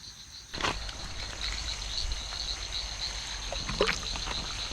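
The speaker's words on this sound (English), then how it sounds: "And the frogs are over there chirping." Frogs chirp at night in a wooded campsite setting, a steady high-pitched chorus with occasional nearer calls and faint knocks and rustles, no talking.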